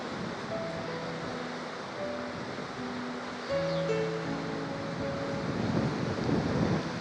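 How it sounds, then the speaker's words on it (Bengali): Strong wind blows by the sea in Portugal, a steady rushing roar against the microphone with surf beneath it and faint distant tones, growing slightly louder partway through. "প্রচুর বাতাস অবশ্য"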